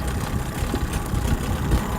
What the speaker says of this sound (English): And there, our outboard has started.